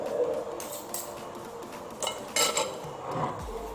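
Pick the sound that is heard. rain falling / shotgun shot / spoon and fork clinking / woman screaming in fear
spoon and fork clinking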